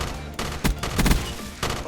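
An M16 assault rifle fires in bursts in a Black Ops 3 mod running Black Ops 1 weapons, loud close rapid shots in two or three short clusters with a steady background hum between them.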